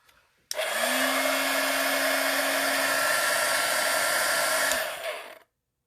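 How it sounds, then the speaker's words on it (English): A heat gun melts embossing powder on a craft star, switching on with a sudden loud rushing blow and steady motor whine that holds for about four seconds before cutting off and fading out. "All I need to do is take the heat gun and I'll just melt it again."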